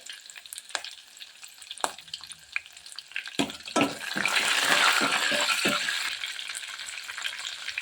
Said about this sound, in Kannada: ಇದೆಲ್ಲ ಎಣ್ಣೆಯಲ್ಲಿ ಚೆನ್ನಾಗಿ ಬಾಡಿಸ್ಕೊಳ್ಬೇಕು